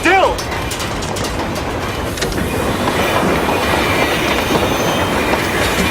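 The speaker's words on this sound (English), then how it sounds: "we just jumped onto a speeding train" A speeding train rattles along at close range, its steady clickety-clack and mechanical rumble running continuously, with brief squealing tones at the start.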